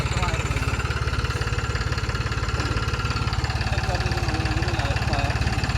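A Mustang tractor engine idles with a steady, rapid low chugging throbbing evenly throughout, close and loud.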